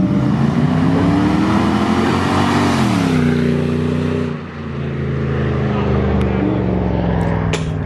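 A V8 Toyota 4Runner with its muffler deleted idles loud and deep, rises in a sustained rev, then drops back to a rumbling idle, close and dominant.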